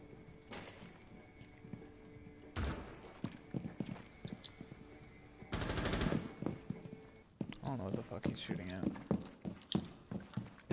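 Bursts of automatic and single-shot gunfire in a tactical video game, sharp repeated cracks and rattling volleys near and far, with players talking over the shooting.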